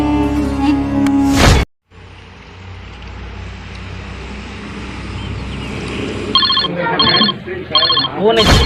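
A telephone rings in repeated short bursts near the end of a Chhattisgarhi comedy scene, loud and close. It follows a steady background rumble, and voices are heard earlier in the scene.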